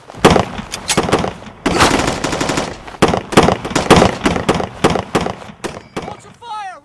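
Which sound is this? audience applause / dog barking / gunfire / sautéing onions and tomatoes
gunfire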